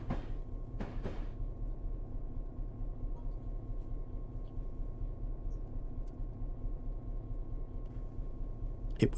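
Train rumbling through a tunnel in Alaska in Train Simulator, a steady low droning engine and wheel noise with a faint constant tone and a couple of brief clanks, no voices.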